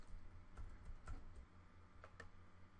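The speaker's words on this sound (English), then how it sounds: "you can just go ahead and start typing here and type anything you like" Quiet typing on a computer keyboard, a few soft scattered keystrokes and clicks, close and faint, alone with no voices.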